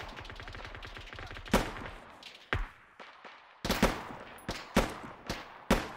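Gunfire in a war simulation game: a rapid machine-gun burst opens, then sharp single shots follow at irregular intervals, loud with quiet gaps between.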